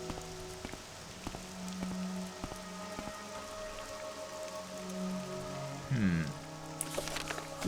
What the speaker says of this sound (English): This rain is fucking awful.